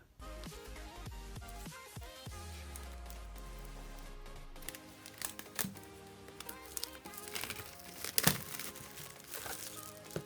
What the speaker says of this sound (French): on va déballer l'iPad